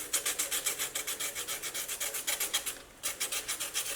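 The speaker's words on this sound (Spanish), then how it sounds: "Entonces lo pasamos así en la lija." Charcoal stick rubbed back and forth on sandpaper taped to a small wooden board to sharpen its point, making rapid rhythmic scratchy rasps in even strokes, close up, with a brief pause before the strokes resume.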